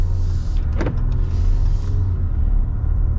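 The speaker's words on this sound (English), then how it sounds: "You got the little diesel chug." A Ram pickup truck's diesel engine idles with a steady low chugging rumble, close by, with a brief higher mechanical whine partway through; no one speaks.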